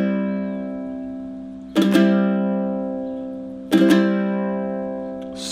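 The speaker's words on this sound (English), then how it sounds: "So let me show you the triplet fast" Two quick bursts of a fast triplet strum on ukulele, each a fast flurry of strokes ringing out into a sustained chord, close and clear without talking.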